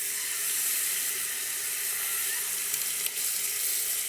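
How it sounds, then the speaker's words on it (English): Tap water runs steadily while a face mask is rinsed off at a sink, a constant close hiss of flowing water with no voices. "I'm going to rinse that off"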